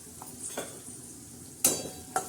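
Red chili powder, turmeric and salt being sautéed in a pan for a Marathi-style brinjal and potato fry, with a soft sizzle under a few sharp spoon scrapes and clinks against the pan.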